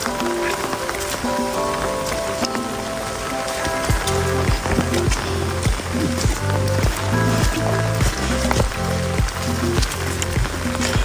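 Heavy rain pours steadily on a surface during a walk out to farm fields, a dense continuous hiss close by, with a voice talking over it and a rhythmic low thumping pattern in the second half.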